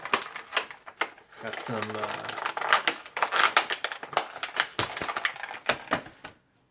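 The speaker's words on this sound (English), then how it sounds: "Let's just take them off the card." A Star Wars Black Series Empire Strikes Back 40th Anniversary Luke action figure is pulled from its cardboard card, giving a dense run of crinkling, snapping and rustling packaging noises, close up, with a voice speaking briefly.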